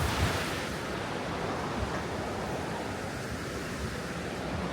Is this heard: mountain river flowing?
yes